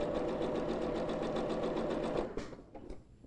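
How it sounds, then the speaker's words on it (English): Sewing machine running steadily while stitching a boning casing along the edge of a bodice, a continuous rapid needle rhythm for about two seconds before slowing and stopping. "I'm sewing close to the edge."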